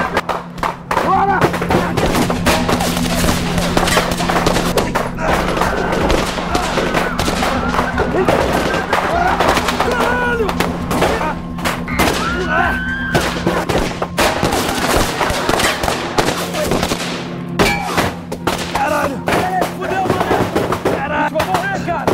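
A shootout in a Brazilian favela from the Tropa de Elite movie trailer, with dense, rapid bursts of gunfire and sharp cracks that run almost without pause, mixed with scattered voices.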